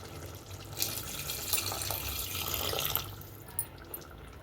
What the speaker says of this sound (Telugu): ఇందులో కొద్దిగా వాటర్ అనేది యాడ్ చేద్దామండి